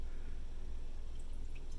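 About a third of a cup of water pours steadily into a pot for black raspberry sauce, a soft, continuous liquid hiss at close range with no talking.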